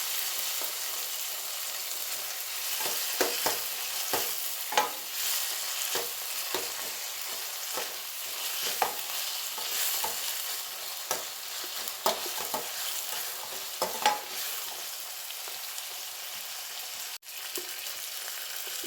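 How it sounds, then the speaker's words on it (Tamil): Tomatoes and onions sauté in a pan for a crab curry, with a steady sizzle and repeated scraping and stirring clinks of a spoon throughout. "தக்காளி நல்லா வதங்கட்டும்."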